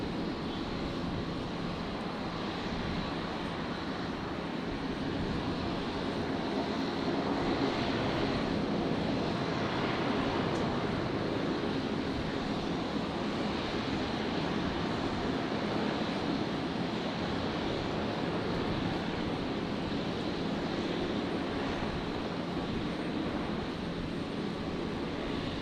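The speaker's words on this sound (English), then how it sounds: "Virgin 349 just about to touch down. The 73 arriving from Melbourne." Virgin Australia Boeing 737 touching down at Brisbane Airport on arrival from Melbourne, a steady broadband jet roar holding at moderate distance for the whole stretch with no talking.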